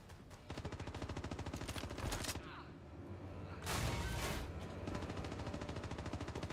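Gunfire in the video game Star Citizen during combat on a planet surface, rapid sustained automatic bursts with brief pauses and one louder blast, fairly close and faint overall.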